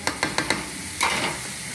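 Minced meat stirred in a large tray over the heat, with a few quick scraping strokes of a spoon and a soft sizzle underneath, close and alone.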